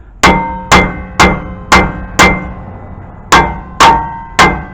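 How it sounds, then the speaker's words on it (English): A 4-pound Wilton sledgehammer strikes the rear brake rotor of a 2002-2006 Toyota Sequoia or Tundra, eight loud, close metallic blows each ringing briefly, five at a steady beat, a short pause, then three more. "I have a faith on my Wilton sledgehammer, 4 pounds. So let me go and continue hitting this."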